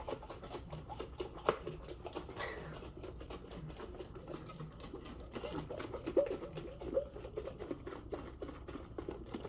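Rapid, steady rattling and clattering of a shaker bottle being shaken, continuous for several seconds with occasional louder knocks.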